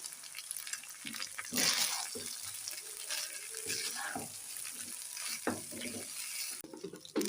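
Rice stirred in a hot frying pan for chicken rice, a close, continuous sizzle broken by repeated scraping strokes of a spatula, with no one speaking.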